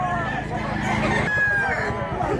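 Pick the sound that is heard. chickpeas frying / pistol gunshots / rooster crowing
rooster crowing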